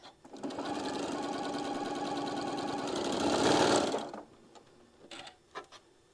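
A sewing machine stitches quilt pieces in one steady, loud mechanical whir for about four seconds, then stops. Brief handling clicks and rustles follow.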